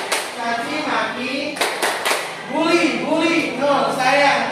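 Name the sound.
class clapping hands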